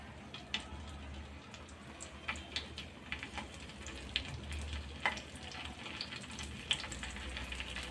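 Okra pieces frying in hot oil, a quiet steady sizzle with small crackles and pops, close and alone without talk.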